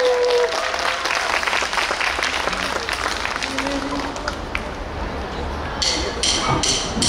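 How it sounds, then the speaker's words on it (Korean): Applause from a concert audience, with steady clapping and crowd noise throughout and a few sharper bursts near the end. "여러분들 큰 박수 부탁드립니다."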